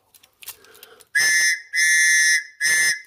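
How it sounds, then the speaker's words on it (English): A shrill Tops Knives whistle, like a British police whistle, is blown three times in loud, sustained blasts, preceded by some faint handling clicks. "Sounds like a British policeman's whistle, don't it?"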